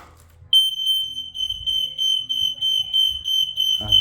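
A smoke alarm being tested beeps in a steady, rapid high-pitched pattern, loud and close, continuing for several seconds after a brief quiet start with low rumbling underneath.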